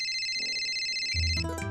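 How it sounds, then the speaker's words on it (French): A mobile phone ringtone trills with bright, repeating electronic tones at a steady pitch, close and clear, briefly joined by louder musical notes near the end. "ton téléphone n'arrêtait pas de sonner"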